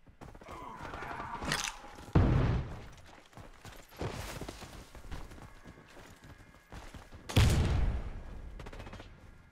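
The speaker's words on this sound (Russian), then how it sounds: "Осторожно, граната!" Grenade blasts and gunfire in the Warface shooter game: two heavy thumping explosions with lingering rumble, scattered sharp shots and crackling fire between them, moderately loud with no talk.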